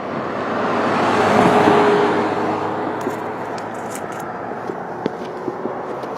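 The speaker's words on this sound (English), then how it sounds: "Here, listen to this car go by." A car passes on a dirt- and leaf-strewn stretch of Dale Evans road in Apple Valley awaiting repaving, a broad swelling roar that peaks early and fades, followed by faint scattered ticks and rustles.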